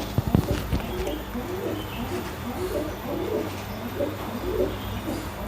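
A caged female pigeon coos in a steady run of soft, low calls over a constant background hum.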